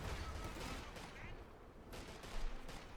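Gunfire from a German MG42 machine gun in Company of Heroes 2 rattles amid a dense multiplayer battle, steady crackling bursts mixed with distant explosions and a sharper burst near the end, no voices over it.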